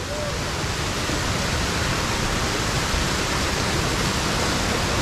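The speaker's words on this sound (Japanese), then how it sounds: "めちゃくちゃすごい勢いでお湯流れてますよね。" Hot spring water rushes loudly and steadily through the lit wooden channels of the Kusatsu Yubatake, a dense, continuous roar close by with no let-up.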